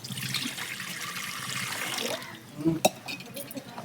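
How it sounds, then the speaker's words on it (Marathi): Water is poured into a cooking pot set on a traditional hearth, a soft steady trickle giving way to a brief closer splash near the end, faint and alone. "आता याच्यात टाकूया पाणी."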